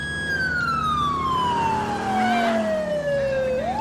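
A loud video game police siren wails close by, its tone sliding slowly downward before rising again at the end, over a low engine rumble.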